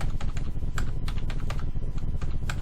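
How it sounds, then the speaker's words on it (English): Rapid, steady typing on a computer keyboard during Revit and Twinmotion design work, with close, crisp key clicks running continuously and no talking. "just keep on typing 1000"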